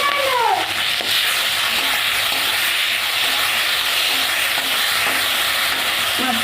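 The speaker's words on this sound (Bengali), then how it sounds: "মাছটা আমি ভালো করে ভেজে নেব" Fish frying in oil in a kadai wok, a loud, steady, dense sizzle that fills the whole stretch without pause, with a faint mewing cat near the start.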